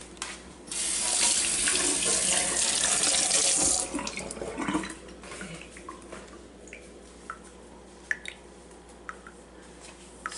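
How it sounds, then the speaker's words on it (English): A kitchen tap runs full for a few seconds while hands are rinsed, then shuts off, leaving soft drips, splashes and wet handling sounds nearby. "Let me rinse my hands really quick."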